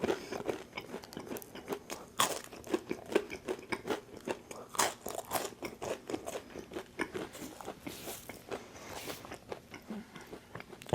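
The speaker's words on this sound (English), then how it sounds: "let me finish chewing" Burger King food is chewed and bitten close to the mic, with repeated crunchy bites and wet mastication in an irregular rhythm and no talking.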